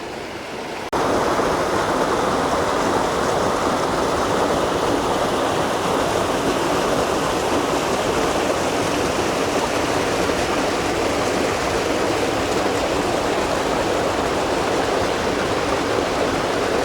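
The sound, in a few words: Wildcat Falls waterfall flowing into Toby's Creek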